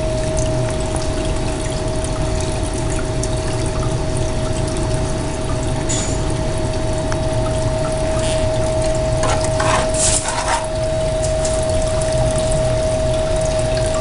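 Water flowing and churning steadily through a Blue Bowl gold concentrator while classified material is run, with a constant pump hum and a few brief splashes.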